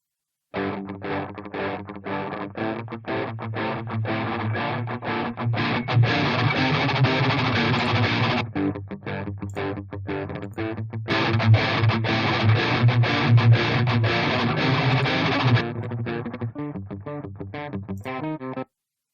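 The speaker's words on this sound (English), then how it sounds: "Let's take a listen to the stomp box with the cleanish channel here." An electric guitar plays through a stomp box on a TSE X50 amp simulator's clean channel, with light overdrive, strummed chords and picked notes ringing out steadily, alone without any talking.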